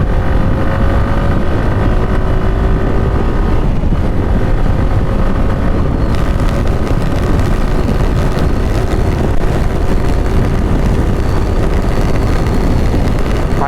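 A Suzuki Gixxer SF 150 motorcycle engine runs loud and continuous with a steady rising whine, steadily revving as it accelerates, heard close up with no talking.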